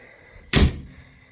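An engine compartment door on a KU45 Chinese mini excavator shuts with one sharp, loud metal slam up close, followed by a short fading ring, with no voices.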